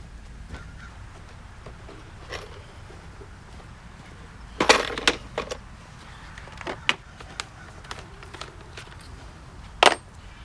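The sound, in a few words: handling screws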